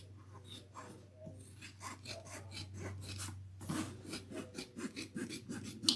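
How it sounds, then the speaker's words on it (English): Scissors trim fabric seams and corners during a sewing project, making a steady run of close, soft snips and rasping cuts over a low background hum. "I'm going to trim all my seams by about half and my corners."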